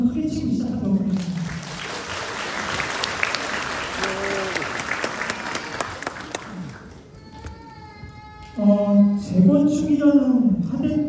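Residents at a reconstruction briefing meeting clap loudly together for several seconds, a dense crackle of applause in an indoor hall, bracketed by someone speaking through a microphone before and after.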